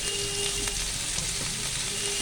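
Red amaranth greens frying with garlic and onion in a pan give off a steady, dense sizzle that stays loud and even throughout, with no voices.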